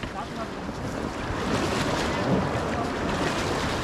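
River rapids churning around a raft in Rishikesh, heard as a steady, loud, broadband rush of water and wind noise close to the microphone, without pause.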